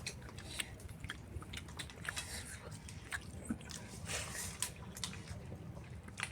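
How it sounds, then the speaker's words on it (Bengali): Quiet, close chewing and biting during a home lunch of food including onion pakoras, soft irregular crunches and wet mouth sounds with faint background noise. "স্নান টান করে তারপরে এই যে খাবার খাচ্ছি"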